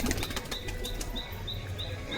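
A pigeon is released and beats its wings in a rapid, close, broadband flutter that runs for about two seconds, with no talk.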